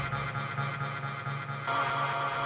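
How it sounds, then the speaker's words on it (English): A sustained synthesized tone in a minimal house track with a thick, washy, large reverb tail; partway through it brightens and grows fuller, ringing on without pause. "it's also being followed up with a reverb, quite a large reverb"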